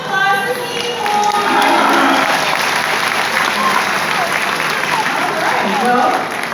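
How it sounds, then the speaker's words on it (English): Audience applause and cheering at a sea lion show at SeaWorld, a loud sustained clapping crowd lasting several seconds with some voices mixed in. "Round of applause for Seymour!"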